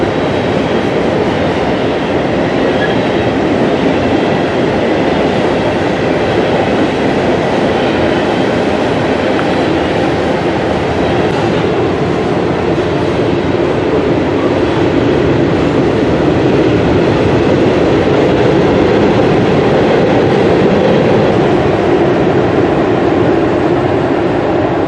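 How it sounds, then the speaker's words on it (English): A Lehigh Valley freight train with steel coil cars rumbles steadily and loudly across a steel bridge, a dense continuous roar of rolling wheels with no talk. "Once the Lehigh Valley train was across the bridge"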